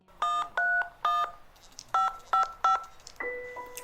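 Telephone keypad tones dialing a number: a quick series of distinct, clear beeps in uneven rhythm, close and loud, followed by a longer two-tone signal as the call connects.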